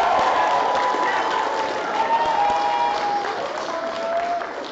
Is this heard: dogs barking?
no